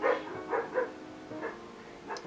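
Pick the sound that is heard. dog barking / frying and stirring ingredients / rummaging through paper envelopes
dog barking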